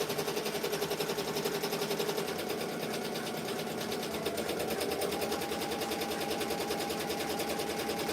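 A Ricoma EM-1010 embroidery machine runs continuously with a rapid, even mechanical chatter throughout, loud and close.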